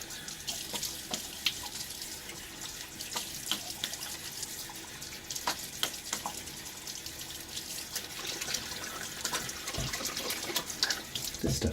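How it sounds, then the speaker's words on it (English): Tap water runs steadily into a sink for the whole stretch as a freshly shaved face is rinsed, a continuous close splashing with small irregular drips and splashes and no talking. "So let's do a little bit of rinsing."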